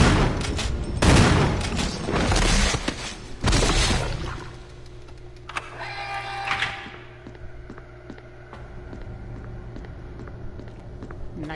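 Shotgun blasts in Resident Evil HD Remaster, several loud, close booms in quick succession early on, followed by quieter mechanical clicks and a low ambient hum.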